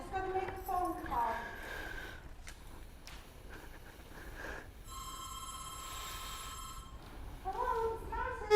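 A telephone rings during a phone call, a steady electronic trill standing out for a couple of seconds amid voices talking before and after it.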